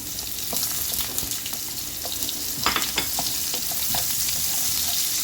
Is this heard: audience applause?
no